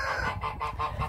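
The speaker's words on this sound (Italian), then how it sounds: "adesso andiamo a vedere le oche" Geese at an animal park honk in a quick rhythmic series of about five loud, close nasal calls, with no talking.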